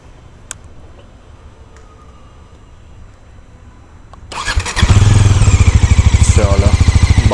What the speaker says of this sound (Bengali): চলো বাইক হয়ে গেছে স্টার্ট, জাস্ট ফিল করো সাউন্ডটা।